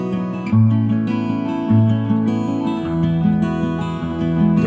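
Layered acoustic guitars with cross-panned reverb play sustained, wide, lush chords, their notes ringing and overlapping in a smooth, clear wash with no talking.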